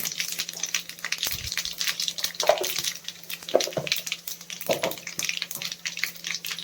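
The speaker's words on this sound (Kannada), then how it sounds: "ಎಣ್ಣೆ ಬಿಸಿ ಆದಮೇಲೆ ಸಾಸಿವೆ ಹಾಕೋಬೇಕು ಒಂದು ಹಾಫ್ ಟೇಬಲ್ ಸ್ಪೂನ್ ಅಷ್ಟು ಜೀರಿಗೆ ಹಾಕೊಳ್ತಾ ಇದ್ದೀನಿ" Mustard seeds and cumin hit hot oil in a pan while tomato rice is being made, giving a soft, steady crackle and sizzle. Scattered pops and spits sound at close range, and no one speaks.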